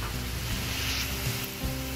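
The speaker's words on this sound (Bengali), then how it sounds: "তো এখন সবকিছু ভালো করে নেড়ে নিচ্ছি।" Banana flower and shrimp fry in a pan with turmeric and red chili powder while being stirred, giving a steady, close, even sizzle with soft scraping and no voices.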